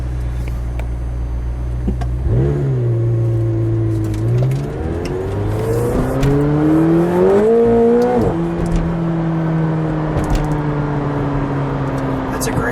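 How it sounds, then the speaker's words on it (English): A 2018 McLaren 720S turbocharged engine revs up in a few rising surges, its tone climbing and holding, with a steady idle rumble between pulls. "McLaren more has that turbo boost sound"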